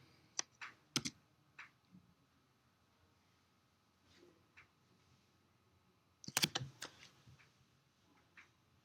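Computer keys clatter in short bursts of quick taps, pausing between clusters, with a dense flurry near the end; the typing sounds close and fairly quiet, with no talking.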